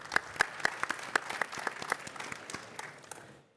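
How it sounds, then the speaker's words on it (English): Audience at a cybersecurity panel event applauds, a burst of many hands clapping with distinct sharp claps, steady for a few seconds before tapering off at the end. "Please give a round of applause for Ms. Outerbridge."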